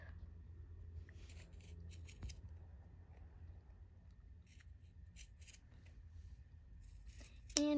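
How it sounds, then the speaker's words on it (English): Scissors snip through a sock to shape a baby doll sleeping mask: quiet, close, repeated cutting strokes and soft fabric rubbing, with no voices. "we're gonna take our scissors and cut out our shape"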